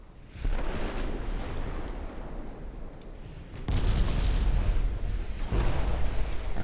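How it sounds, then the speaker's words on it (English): Heavy naval guns in a warship video game fire a mix of HE and AP shells. Deep booming blasts rumble continuously, with a sharp new volley around the midpoint. The shots sound loud and dense, and nobody speaks. "They're firing a mix of HE and AP."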